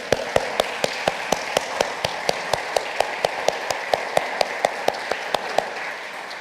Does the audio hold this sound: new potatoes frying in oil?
no